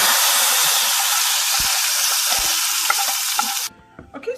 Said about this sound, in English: you're going to put this into the dal. It might kind of like splutter a bit